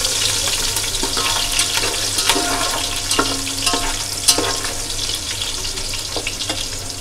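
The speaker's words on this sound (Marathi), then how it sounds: "लसूण जराशी आपण परतून घ्यायचं आहे" Garlic sautéing in a pan for a Konkan-style jackfruit vegetable dish, with a steady broadband sizzle and occasional scraping stir sounds throughout, close and continuous with no talking.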